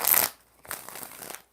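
Tarot cards are shuffled in a brief burst of crisp riffling, followed by softer rustling handling of the deck, close and quiet.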